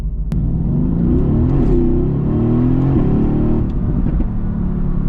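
A Mercedes-AMG car in Race mode revs and accelerates, its engine a steady loud rumble with rising and falling pitch sweeps and a sharp click near the start, continuous throughout with no voices.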